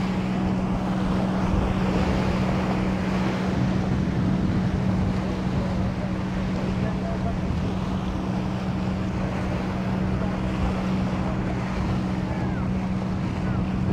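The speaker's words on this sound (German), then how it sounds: "Hier weht auch gerade hier oben ein ganz herrlicher Wind." Strong wind high up at Evrenseki beach rushes and rumbles continuously across the microphone, a loud broadband roar with a steady low hum underneath.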